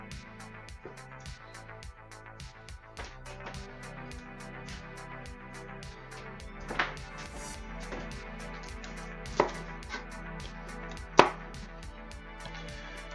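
Steady, rapid knife strikes chop vegetables on a cutting board for beef stroganoff, an even rhythm of faint taps with a few sharper, louder hits near the end, no voices.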